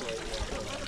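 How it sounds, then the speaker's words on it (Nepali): Water falling from a wooden theki vessel gives a soft, steady trickle that stays even and faint for under a second. "ठेकीबाट झरेको छ पानी चाहिँ"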